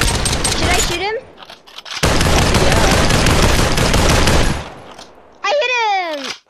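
Loud bursts of rapid automatic gunfire in the VR battle royale game Population: One, a long sustained volley in the middle with a shorter burst before it, separated by an excited voice.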